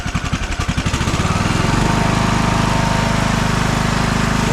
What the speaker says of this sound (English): There's no choke on that either, so that's full throttle sounds